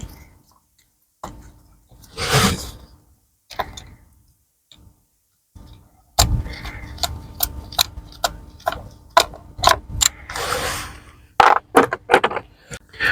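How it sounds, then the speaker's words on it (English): Sharp clicks of a ratchet loosening an 8mm bolt on a car's MAP sensor come close and alone: a brief burst, then a quicker run of ticks in uneven bursts. "I'm going to undo this 8mm bolt"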